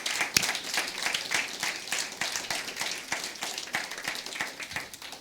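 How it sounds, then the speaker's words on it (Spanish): Church congregation clapping for the Lord during worship, a loose, moderate wash of hand claps with sharp individual slaps standing out, steady throughout with faint voices underneath. "Alguien dele un aplauso fuerte al Señor."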